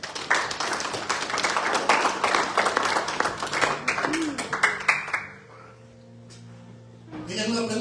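A church congregation applauds the Lord at the close of an evangelical sermon on the Great White Throne Judgment, claps and cheers running loud and dense for about five seconds, then fading to a quiet hum before voices return.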